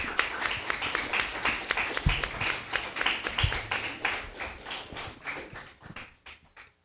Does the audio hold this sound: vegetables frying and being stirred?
no